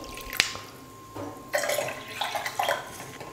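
Water is poured for kozhukattai dough in a home kitchen, with a single drip-like splash first, then quiet splashing and trickling that rises in short surges.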